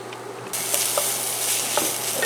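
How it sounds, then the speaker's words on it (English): Sausage sizzling in a pan on an induction cooktop, a steady close frying hiss with light scraping and clicking as it is stirred. "You just want to stir this,"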